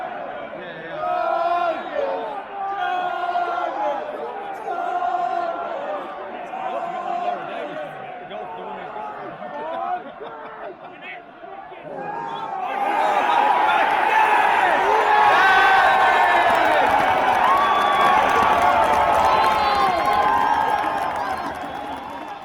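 Crowd noise of rugby spectators leaving Welford Road after a match against Harlequins, a murmur of voices that swells into a loud, dense, sustained babble of chatter and calls in the second half.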